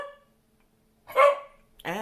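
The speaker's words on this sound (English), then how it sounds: "I don't know what they're barking at" A couple of dogs barking indoors, a loud burst of barks followed after a short pause by another close bark, with quiet before.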